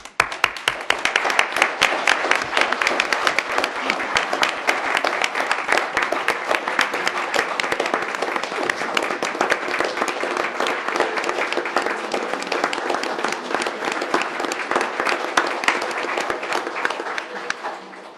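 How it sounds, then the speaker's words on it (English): A crowd applauds a fire chief with sustained, dense clapping that holds at an even, strong level for a long stretch before cutting off. "So I think he deserves a round of applause from all of us."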